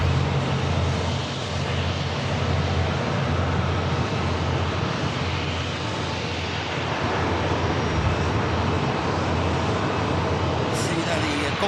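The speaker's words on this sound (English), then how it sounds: "See there, the Gulf Air Dreamliner for Bahrain about to spool up." Gulf Air Boeing 787 Dreamliner bound for Bahrain at Manchester Airport, engines giving a steady loud broadband roar that builds slightly, with airport traffic hum beneath and a voice talking over it.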